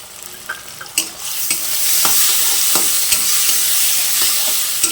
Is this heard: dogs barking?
no